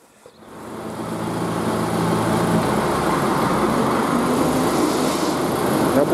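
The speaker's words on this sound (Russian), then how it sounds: "Работает трактор." A tractor engine rumbles steadily and loudly, rising at the start and then holding a constant droning roar.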